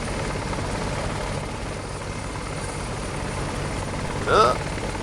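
A Bell 430 helicopter from a video game drones in a steady, continuous rotor and engine wash, with a short brighter chirp near the end.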